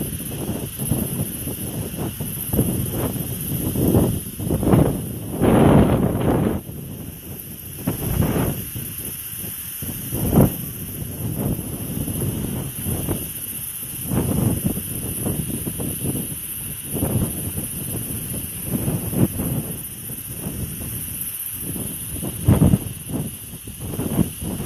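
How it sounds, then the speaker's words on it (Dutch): Wind gusting during a summer storm chase in Dordrecht, a steady hiss with repeated louder buffeting bursts across the microphone, close and continuous with no talking. "de wind is in ieder geval lekker"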